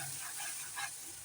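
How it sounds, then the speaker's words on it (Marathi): Pineapple sheera with cooked pineapple and sugar is stirred in ghee in a pan, giving faint, soft scraping and a low sizzle in a short quiet stretch. "हलवून घेऊया."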